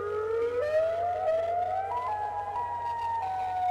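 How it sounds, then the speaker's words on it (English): A Federal Signal Modulator electric tornado siren gives a steady, loud wail whose pitch climbs and shifts between tones in an alternating pattern, with a low constant hum underneath and no voices. "these have the ability to create that alternating wail sound"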